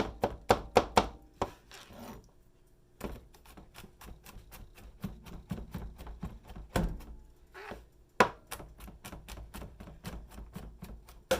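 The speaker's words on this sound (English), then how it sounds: "now I'm just going to mince up this garlic." A knife minces garlic on a cutting board in quick bursts of sharp, close chopping taps, with short pauses between the runs.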